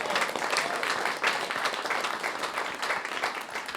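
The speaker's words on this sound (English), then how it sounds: "We should applaud it." An audience at a talk applauds in a continuous, dense wash of clapping that holds at an even level throughout, with no voices standing out.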